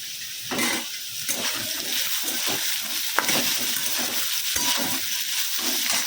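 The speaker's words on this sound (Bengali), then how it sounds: "এদিকে আলুটা ভাজতে দিয়ে দিয়েছি" Potatoes frying in a pan for a Bengali aloo posto dish, a steady close sizzle with bubbling crackle and occasional stirring scrapes, loud and continuous with no talking over it.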